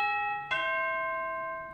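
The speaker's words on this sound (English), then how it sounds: "Even church bells." A sustained church bell tone from a Technics digital piano rings out, then a fresh strike sounds and its rich, sustained overtones slowly fade, electronic and clean with no other sound.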